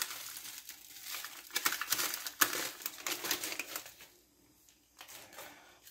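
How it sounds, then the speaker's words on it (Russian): Instant coffee poured from a US Army MRE packet, close crinkling of the plastic pouch with a soft granular patter, uneven and moderately quiet, fading out near the end. "Высыпаем сюда кофе."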